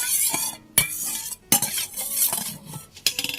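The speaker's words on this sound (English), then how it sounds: "You can add 2 tablespoons of oil that you fried the shallot just now. Mix well with the sauce." A spoon stirs sauce mixed with shallot frying oil in a bowl for steamed tofu, giving close scraping and clinking strokes with a few sharp knocks against the dish.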